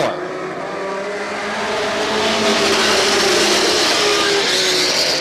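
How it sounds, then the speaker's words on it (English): Stock cars at Star Speedway in 1991 accelerate out of turn four, a loud, swelling roar of many engines from close range that builds and then holds at full intensity. "Here they come. It's out. They're racing out of turn 4."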